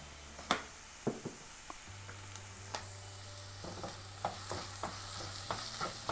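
Onions with ginger-garlic paste sauté in a pan, a soft steady sizzle punctuated by sharp taps of a spoon stirring against the metal, with a low hum underneath and no talking.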